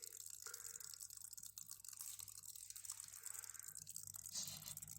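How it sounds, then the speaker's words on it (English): Water splashing and dripping in a rebuilt frog tank for leucomelas frogs, a faint steady trickle with scattered drips over a soft hum. "Now just enjoy the frogs and a little bit of the water splashing."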